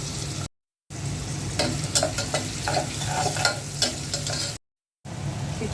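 Onions fry in a pot with spiced meat and garam masala for khichuri, a loud, close sizzle with scraping stirs and clatters, broken by two brief silent gaps.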